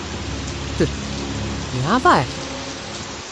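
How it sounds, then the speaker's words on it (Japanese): Heavy rain pours steadily during a fishing trip on the Wakayama coast near a marina, a dense constant hiss with people talking briefly over it. "雨きつい。"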